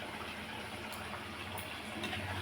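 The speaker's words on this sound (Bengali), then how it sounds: "এরকম করে মাছগুলো ফুটছে।" Rohu fish curry boils in a pan in a home kitchen, a soft, steady bubbling and gurgling heard close but faint, continuous and alone, with a few small pops.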